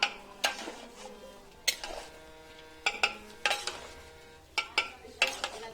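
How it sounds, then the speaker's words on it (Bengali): Potato and jackfruit stirred in a pan while sautéing, a spoon scraping and clinking against the metal in irregular bursts over faint sizzling. "এঁচোড়টাকেও খুব ভালো করে কষিয়ে নিল"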